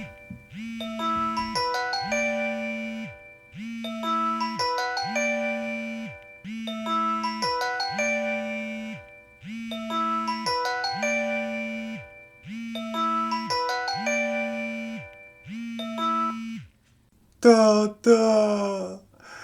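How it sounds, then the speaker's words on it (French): A phone ringtone repeats a steady electronic ding-dong pattern about eight times in even rhythm, clear and alone, then cuts off abruptly just before a brief burst of voice at the end. "il chausse ses lunettes, prend le temps de lire qui l'appelle"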